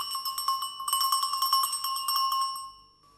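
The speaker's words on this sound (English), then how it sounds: "Another sort of bell is the cowbell." A metal cowbell is struck repeatedly in a quick, even rhythm, each hit ringing brightly and close, then the strokes stop and the last ring fades out.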